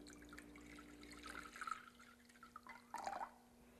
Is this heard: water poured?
yes